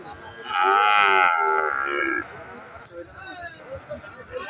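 At the Bamundi cattle market in Gangni, Meherpur, a cow gives one loud, close, drawn-out moo lasting over a second, followed by people talking amid market noise.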